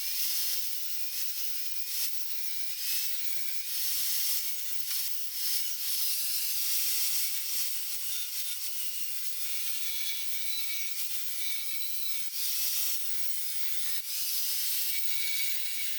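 A continuous rim diamond wheel grinds aluminum in a weld repair, giving a sustained hissing, gritty grind with pulsing surges in intensity across the whole stretch, close up and with no speech.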